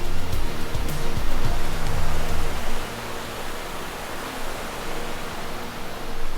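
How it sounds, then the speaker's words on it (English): Mountain stream swollen with snowmelt rushing loudly through a canyon, a dense roar of water close by that stays steady throughout, dropping somewhat in level partway through. "The water's rushing real hard too, real loud."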